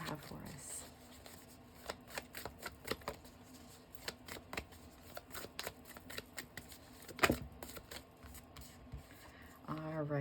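Moonology oracle cards being shuffled by hand in a series of quick, crisp riffling bursts and taps, close and fairly quiet, with someone speaking between them.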